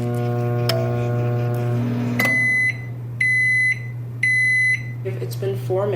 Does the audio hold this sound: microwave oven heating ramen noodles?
yes